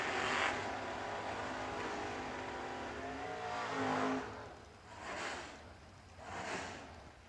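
A Mustang Roadster drag racing car accelerates at a bracket nationals drag strip, its engine roaring steadily at a moderate distance before surging in two rising swells toward the end.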